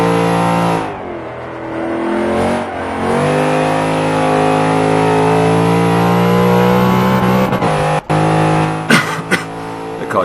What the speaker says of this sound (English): I'll stop revving it into the red line.